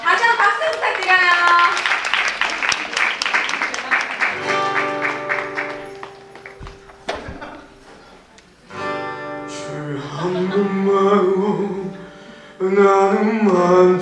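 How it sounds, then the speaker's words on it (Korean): Audience clapping at a year-end church celebration as a singer is called to the stage, a burst of applause for a few seconds giving way to sustained musical tones and voices. "다시 한번 박수 부탁드려요"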